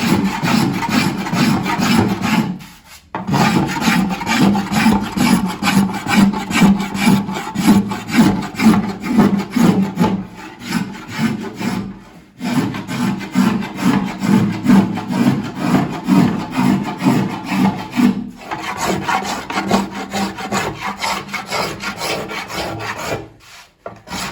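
Steady back-and-forth rasping on the mulberry wood body of a saz, repeated strokes of the file in long bursts with brief pauses, close and loud.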